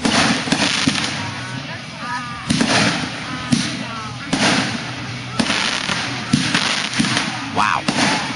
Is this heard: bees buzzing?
no